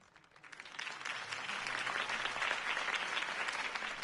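Applause from a crowd at a political campaign speech in the Batman Telltale video game, rising quickly from quiet into steady, dense clapping that holds for several seconds with no talk over it.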